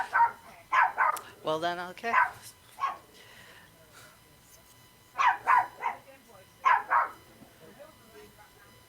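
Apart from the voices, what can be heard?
dog barking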